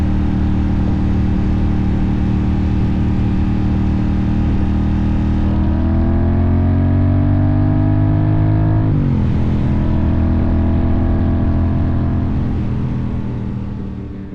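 A 2007 Triumph Bonneville America motorcycle on the road produces a loud, steady engine drone, rising and falling through gear changes as it rides, close up and continuous.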